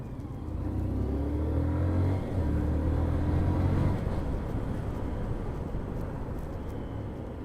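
A Hero Honda Karizma ZMR motorcycle accelerating hard on an open, bumpy road, a loud close engine drone rising in pitch, with wind rumble under it and no talking.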